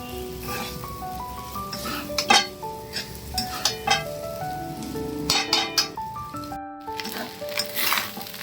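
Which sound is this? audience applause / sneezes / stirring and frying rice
stirring and frying rice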